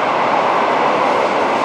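Loud, continuous rumble of a train rolling past close by at a station in Arashiyama, Kyoto, a steady roar without voices.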